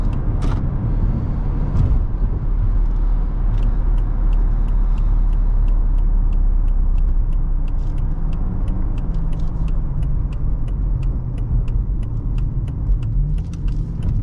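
A 2001 Mercedes-Benz S55 AMG engine hums steadily from inside the cabin while driving on back roads, with a low rumble, road noise and faint rattles and creaks throughout.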